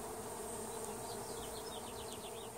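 Honeybees buzz at a hive in a dense, steady hum, with a few individual insects droning past up close over the continuous swarm.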